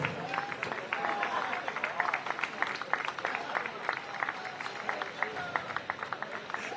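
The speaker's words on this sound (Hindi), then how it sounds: "आइए हम इस्तकबाल करें तालियों के साथ जावेद अख्तर साहब का" An audience applauds steadily to welcome Javed Akhtar at a poetry award ceremony, a dense run of claps with faint voices underneath.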